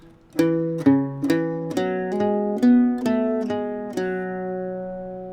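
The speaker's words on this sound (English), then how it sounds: "the first measure of line 2 is going to sound like this." An Irish bouzouki with a bright, ringing tone plays a short phrase of about ten evenly spaced notes, close and clear, with no voices.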